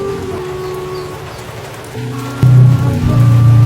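Steady rain falls in a broad, even hiss of drops on surfaces, growing louder and heavier toward the end with a low rumble beneath it and no voices.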